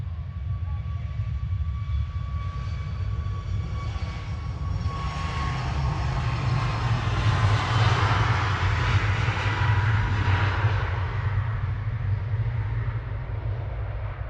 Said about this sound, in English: 2E2476 to Tenerife South, the Max 8 on the roll